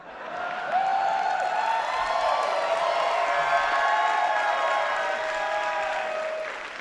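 Applause from a comedy show audience at a drag and queer performers' event, a dense sustained roar of clapping mixed with cheering and whoops, steady and loud throughout before tapering off at the end.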